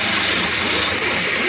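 A Rapide Lime hand shaper cuts a 5/16-inch square hole in a clapper, giving a continuous dense, hissing mechanical clatter that stays loud and even throughout the short stretch.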